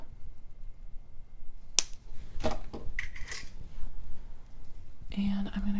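Close, crisp snips come from cutters working through 20 gauge antique brass bead wire. A few sharp clicks stand out against soft tabletop handling noise in a quiet room.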